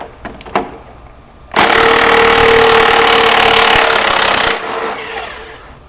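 Power tool spinning a nut off a corn head friction disc hub, a few clicks and taps, then a loud continuous whirring burst of about three seconds, stopping abruptly with quieter noise after.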